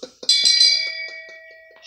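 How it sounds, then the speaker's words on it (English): A shame bell rings out in a quick series of bright metallic strikes that settle into one long, clear, steadily fading ring, with a final strike at the end. "I'm not about to sit there and try to take this nigga to court over using a motherfucking shame bell."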